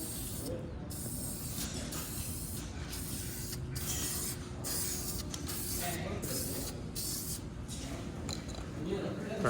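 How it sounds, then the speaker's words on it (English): Spray can or gun laying a light first coat of primer over a bondo repair, with rhythmic bursts of close hiss in short passes and a steady airy background, and a voice speaking over the spraying. "So here's the first coat, which is kind of a light go through."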